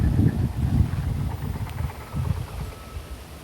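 Strong wind buffets the microphone ahead of approaching rain on a late-afternoon drone flight, a loud, continuous low rumble that swells in gusts, strongest at the start and easing slightly toward the end.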